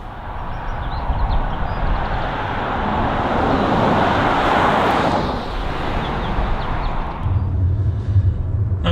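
A 2021 Jaguar F-Pace driving on the road, its steady broadband tyre and engine rumble holding throughout at a fairly loud, constant level, easing slightly near the end.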